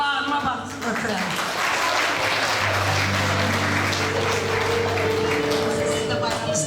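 Applause from an audience at a school literature evening celebrating Novruz, a steady sustained clapping that fills the hall, with a low hum and some voices underneath.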